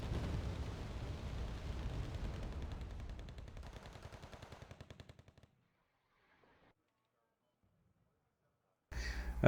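Bomber explosions in the video game Wargame: Red Dragon, a rapid, crackling string of blasts and rumbles that gradually fades out, then near silence before another sharp burst hits at the end.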